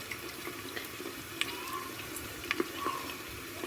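Water runs into a cooking pot while stuffed collard greens are being made, a soft, steady pour with faint splashes and drips, fairly quiet and with no talk over it.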